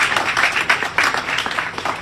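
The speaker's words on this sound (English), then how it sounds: "who gets the last clap?" An audience at an American Populist Union speech event claps and applauds, a dense, close burst of overlapping hand claps that holds steady throughout.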